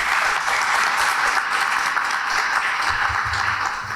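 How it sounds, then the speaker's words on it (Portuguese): Applause at a Brazilian municipal public hearing on health department accounts, a room full of people clapping steadily and loudly for several seconds without pause. "O vereador Julião, nós que temos que bater uma salva de palmas para vocês pelo serviço prestado de vocês"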